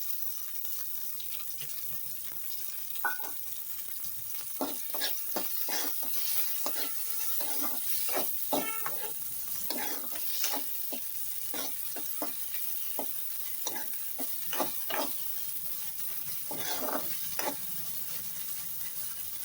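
Dried prawns frying with onion in a pan give off a continuous sizzle broken by frequent sharp crackles and spatters, heard up close with no one speaking.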